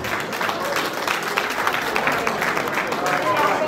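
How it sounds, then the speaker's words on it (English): Audience applause at a 70th anniversary celebration and charity auction, steady and fairly loud broadband clapping that holds across the whole stretch, with voices mixed in. "Give them a big round of applause."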